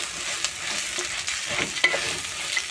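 A spoon stirs rice into fried vermicelli in a hot pot, turning it from the bottom up. Sizzling and frying hiss steadily under repeated scraping strokes of the spoon, close up, with no talking.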